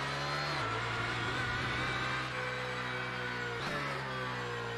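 BMW Z4 GT3 race car in a racing video game, its engine droning steadily and rising in pitch under acceleration, with two brief gear-change dips, loud and continuous throughout.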